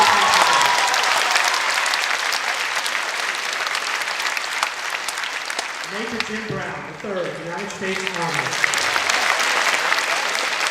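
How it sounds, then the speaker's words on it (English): Sustained loud applause from an audience honoring veterans at a school Veterans Day ceremony, with a voice announcing names and ranks over the clapping partway through. "Let's give a round of applause for all our veterans"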